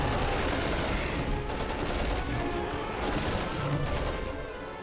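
Dense, loud gunfire from the game Resident Evil 6, a rapid rattling barrage of overlapping shots that continues without pause and fades slightly toward the end.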